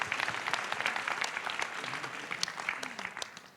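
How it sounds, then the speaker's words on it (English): A small group of dance workshop participants claps for themselves, a lively run of close, crisp handclaps that thins out toward the end. "Give yourselves a clap."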